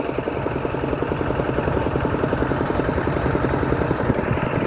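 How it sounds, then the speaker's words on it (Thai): A two-wheel walking tractor engine chugs close by in a quick, even rhythm, running steadily and loudly through the whole stretch during an evening countryside ride, with no talk. "จะชมโดยรถไถเดินตามนะคะ"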